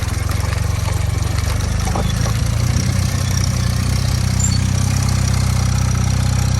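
Engine of a Honda Quicksilver moped, revived after sitting 37 years, runs steadily with a low, even idle-like drone, continuous and fairly loud, while riding through deep gravel outdoors.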